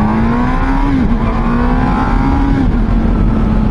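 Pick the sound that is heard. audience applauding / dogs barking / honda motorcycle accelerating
honda motorcycle accelerating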